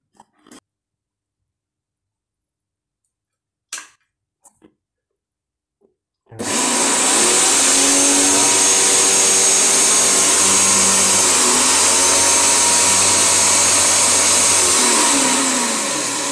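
A 1000W, 100V electric pressure washer motor switches on after a few faint clicks and runs with a loud, steady whine and hum that holds for about ten seconds.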